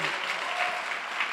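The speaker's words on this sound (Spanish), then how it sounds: "le demos un aplauso fuerte a nuestro Dios" A church class audience applauds, a brief steady patter of many hands clapping together at moderate distance with no talk over it.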